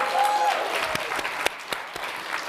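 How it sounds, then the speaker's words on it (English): An audience breaks into applause at a Hispanic Heritage Month celebration of culture and food. Steady, dense clapping fills the whole stretch, with a few sharper individual claps standing out near the end. "big round of applause to Satchel."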